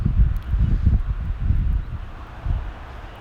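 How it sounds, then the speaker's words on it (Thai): Low, gusty rumbling from an electric fan's airflow hitting the microphone pulses unevenly, strongest at the start and fading slightly, with nothing else heard. "เสียงลมแบบนี้ครับก็ต้องขอไปจริงๆนะครับ"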